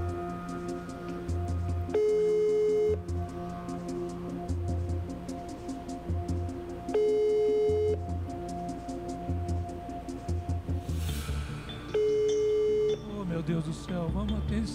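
Repeated telephone ringback tones sound while a call is placed on a Brazilian TV program, in steady one-second bursts roughly every five seconds, over background music and studio talk.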